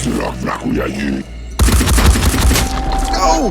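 Gunfire in the video game Phoenix Point: a sudden loud blast opens a dense burst of close shots and crackling impacts, with game sounds and tones continuing under it.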